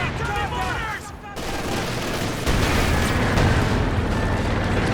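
Dense gunfire and booming explosions from a muddy 3v3 Company of Heroes 2 battle, including a frag grenade blast, heard under an excited commentator's voice.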